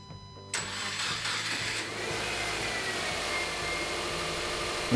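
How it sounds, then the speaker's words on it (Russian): A car engine cranks briefly and catches, then settles into a steady idle, heard close and alone with no talk over it. "Запускаем двигатель."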